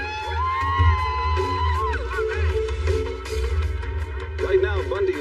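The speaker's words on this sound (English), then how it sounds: "People were cheering, they were singing." A crowd gathered outside a prison awaiting Ted Bundy's execution cheers and shouts in the background, heard steadily under someone talking in the foreground.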